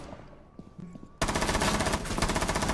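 Video game gunfire as a player empties a full magazine: after a short quiet stretch with a faint tone, a loud, rapid burst of automatic shots starts abruptly and continues without pause to the end.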